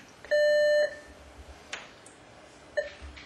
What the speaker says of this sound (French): Les deux bips indiquent qu'il a bien compris.